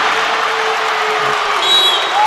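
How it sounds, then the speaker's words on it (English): A high school basketball crowd in a gym roars and cheers after a spinning bank shot by Lowell at East Chicago Central, a loud steady wash of voices with a few whistles near the end. "That gets the crowd on their feet"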